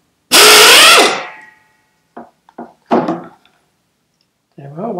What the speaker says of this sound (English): I'm going to be using air tools again because it's the easiest way for me.